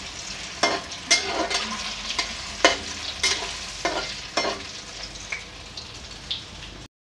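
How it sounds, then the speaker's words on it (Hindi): Gatta dumplings frying in oil for Rajasthani pulao, a steady close sizzle broken by repeated sharp scrapes and clatters of stirring at irregular intervals; nobody speaks. "तो देखिए हमने गट्टे को फ्राई कर लिया है"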